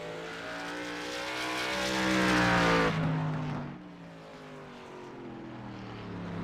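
Race car engine on a timed lap at New Smyrna Speedway, a loud roar with harmonic whine that rises as the car approaches, peaks near mid-clip, then drops in pitch as it passes and fades into the distance.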